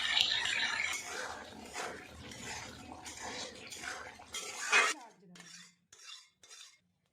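A spoon scrapes and clinks around a pan of mushroom matar masala in uneven strokes, close and fairly quiet, with the stirring trailing off into a few sparse taps.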